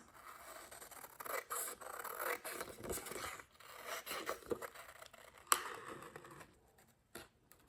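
Scissors snip and scrape through a thin acetate sheet in short, irregular bursts of crisp rasping cuts, quiet and close, with a few sharper clicks and pauses between strokes.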